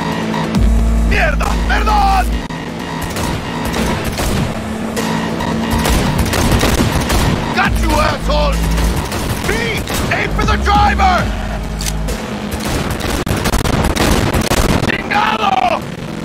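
Gunfire in a Cyberpunk 2077 car chase: loud, dense bursts of shots and mechanical clatter over a continuous vehicle roar, with voices shouting throughout.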